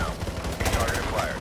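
Rapid automatic gunfire from Modern Warfare 2 Remastered, a dense loud burst of game shots that runs almost without pause, with a brief cutoff near the end.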